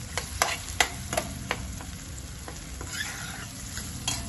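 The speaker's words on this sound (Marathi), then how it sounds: "तेलामध्ये व्यवस्थित फ्राय करून घ्यायचा" Onion-garlic masala sizzles and fries steadily in hot oil for a dry ghevda bean dish, with a few louder stirring scrapes and clinks near the start and no talk.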